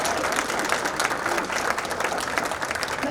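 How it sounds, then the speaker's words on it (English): An audience at a panel forum applauds Dr. Han, a steady burst of crowd clapping lasting a few seconds with no pause. "so we owe Dr. Han an applause"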